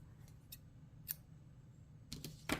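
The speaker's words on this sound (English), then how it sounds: "Now I'm gonna cut a long" Scissors snipping a long tail of crochet yarn, a few quick faint metallic snips and blade clicks, isolated and quiet, with a louder cluster of cuts at the end.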